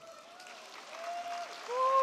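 Light applause from a luncheon audience at a women's policy roundtable, greeting the event's two major sponsors; the clapping is faint and sparse, swells toward the end, and a single voice holds a sustained tone over it.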